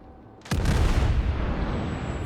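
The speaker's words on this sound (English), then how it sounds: "So I'm just gonna fire off a shot at that Nürnberg." A single heavy salvo from the battleship Fuso's main guns in World of Warships, a sudden loud boom followed by a long rumbling roar that slowly fades.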